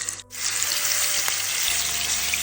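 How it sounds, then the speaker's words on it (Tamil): Fish sizzles as it fries in oil seasoned with a spice masala: a loud, dense, continuous crackle and hiss, briefly dipping near the start, with no talking. "மீனை இதில் போட்டு கொஞ்ச நேரம் வறுத்து"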